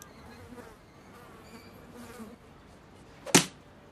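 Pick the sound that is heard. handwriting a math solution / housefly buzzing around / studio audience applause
housefly buzzing around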